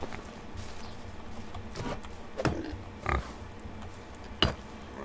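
A pig in the video game Medieval Dynasty gives a few short grunting oinks at irregular intervals over a low, steady ambient background, fairly close and moderately loud, with no speech.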